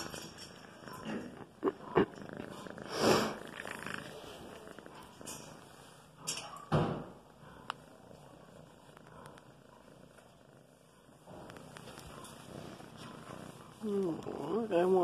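A barn cat purrs softly up close, a low, faint rumble broken by a few louder bumps and handling noises, with someone talking over it now and then.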